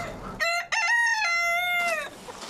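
A rooster crows once, loud and close, a harmonic cock-a-doodle-doo rising then holding before trailing off over a quiet farm background.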